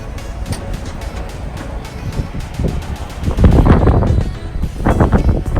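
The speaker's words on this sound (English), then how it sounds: "it's pretty windy" Steady wind rumbles and buffets a microphone outdoors, the low roar swelling stronger in the second half.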